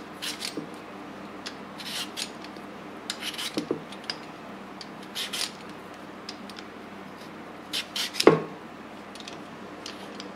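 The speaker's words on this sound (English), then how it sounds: "let's get started on peeling the potatoes for the creamy, cheesy, garlic mashed potatoes." Potatoes being peeled for creamy, cheesy garlic mashed potatoes make quiet, close scraping strokes in short irregular bursts, with a sharper knock near the end.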